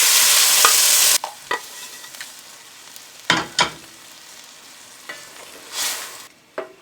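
Dal lands in a hot frying pan of coriander, jeera and turmeric with a loud burst of sizzling, then settles into quieter frying punctuated by sharp scraping stirs and spatula knocks, close up with no voices.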